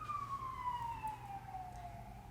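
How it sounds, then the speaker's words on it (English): Ambulance siren heard faintly from outside, a single falling wail sliding downward in pitch as the vehicle passes at a distance. "Why are there so many ambulances this morning?"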